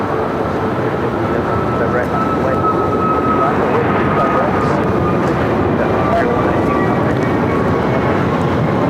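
Boeing 787-9 Dreamliner jet in oneworld livery at LAX, a steady broadband engine roar with a faint whine, loud and continuous throughout, airport ambience around it.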